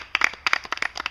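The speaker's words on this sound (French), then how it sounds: "Donc, on peut aussi les applaudir." A small group claps briefly at an outdoor stage event, quick uneven hand claps from a few people, close and moderately loud, lasting about a second.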